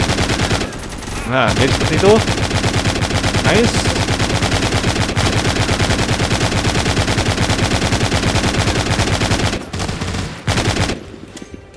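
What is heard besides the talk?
mounted machine gun firing in video game The Walking Zombie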